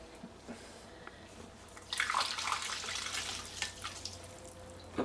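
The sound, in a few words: water being poured into the next glass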